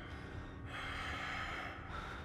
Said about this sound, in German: Ich höre ihn atmen.